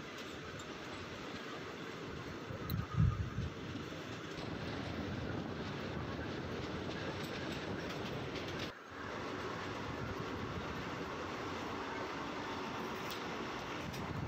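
Inside the 18109 Tata ITR Express passenger train, a steady rumble of wheels on rails carries throughout, with a brief louder knock near the start and a momentary dip partway through.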